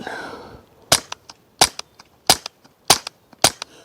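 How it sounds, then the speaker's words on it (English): Five sharp, evenly spaced suppressed pistol shots firing standard velocity ammo into dirt, each a crisp crack followed by faint clicks, with a short whoosh before the first. "I've got 5 rounds of the standard velocity ammo"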